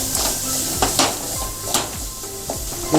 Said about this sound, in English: Let's cook until the oil separates from the tomato mixture.